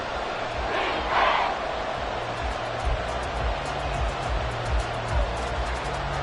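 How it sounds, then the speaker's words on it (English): Stadium crowd roaring at an American football game with the Texans near the goal line in the final seconds, a dense, sustained wall of cheering and shouting that swells slightly in places. "This crowd doing all they can"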